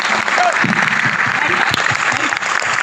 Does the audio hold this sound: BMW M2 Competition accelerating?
no